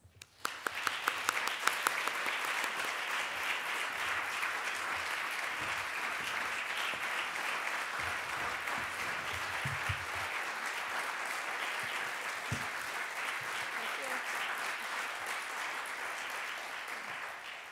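A ceremony audience at the 2011 Social Justice Awards at Dartmouth College applauds to welcome Evelyn Ellis, sustained even clapping from a full room that holds steady for the whole stretch and fades slightly at the end.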